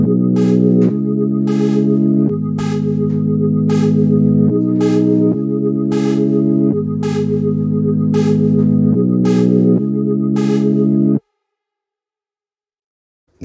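A bright saw synth plays a typical Amapiano chord pattern programmed in FL Studio, with repeated rhythmic stabs and sustained chords running loud and steady for about eleven seconds before stopping into silence.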